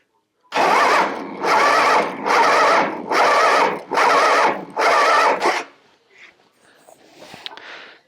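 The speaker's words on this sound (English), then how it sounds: "We're going to crank or see what kind of compression it's got" Motorcycle V-twin engine cranking over on the starter with a compression tester fitted to the front cylinder, six loud rhythmic chugging bursts, then a few faint clicks and rattles as it stops.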